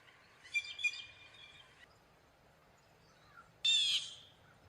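A recorded wild bird call with a boisterous, harsh tone: two quick raspy bursts, a pause, then a louder, longer raucous call, all against quiet background.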